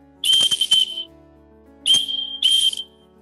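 A whistle sounds Morse code letter A: a short blast followed by a longer one, then repeated as another short blast and a longer one, clear and close with no talk.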